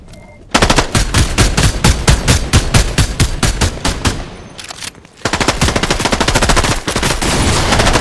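Fortnite machine-gun fire hammers out in long, evenly spaced automatic bursts, close and loud, with a brief pause before another sustained volley resumes.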